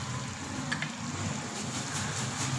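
Biryani ingredients with fresh coriander being mixed and cooked in a pan, a continuous dense hiss and sizzle with faint stirring sounds, steady and close with no talk.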